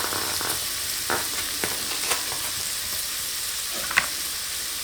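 Chicken alfredo sizzles in a Ninja cooking system as a spoon stirs it, producing a constant soft frying hiss punctuated by several light scraping clicks.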